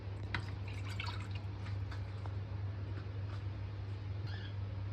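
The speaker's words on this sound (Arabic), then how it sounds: "يبقى احنا كده نزلنا بكوبايتين من الميه" A cup of water poured into a chicken marinade for homemade fried chicken, heard as faint intermittent drips and splashes over a constant low hum, with no talking.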